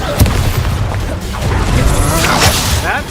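An Expulso spell detonates in Hogwarts Legacy with booming, crashing blasts amid a busy fight. Strikes and whooshes recur through the sustained, loud rumble.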